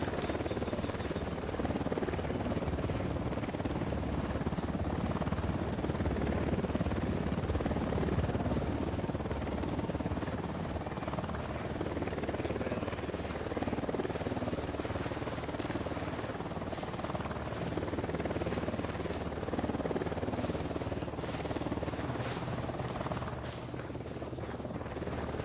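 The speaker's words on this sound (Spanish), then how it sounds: "Se acerca un helicóptero al suelo." A helicopter in the video game Ghost Recon approaches the ground with a continuous whirring rotor drone that stays steady and moderately loud throughout, with no speech.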